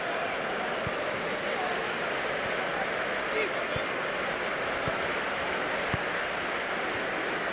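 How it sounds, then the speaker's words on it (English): Football crowd at a Championship match between Plymouth Argyle and Leeds United applauding a substituted player as he walks off, a broad steady roar of clapping and cheering from the stands, distant and continuous, with a voice faintly over it. "That's the applause you're hearing."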